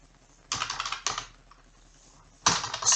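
Computer keyboard typing while entering data into an Excel sheet, arriving as three close, crisp bursts of rapid keystrokes separated by quiet pauses, with no voices.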